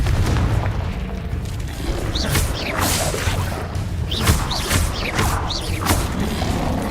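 Confringo fire-spell blasts in the game Hogwarts Legacy: repeated heavy booms and crashing impacts with whooshing bursts, loud and continuous over a rumbling battle din.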